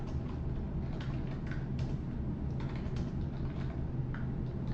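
Fingers type steadily on a computer keyboard, a close, continuous patter of light key clicks over a low background hum, with no speech.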